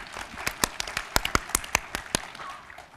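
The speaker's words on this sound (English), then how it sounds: "Please give him applause" Scattered hand claps from a small audience at an accounting standards (IFRS) seminar: a dozen or so distinct, sharp claps at an uneven pace, close and fairly loud, thinning out toward the end.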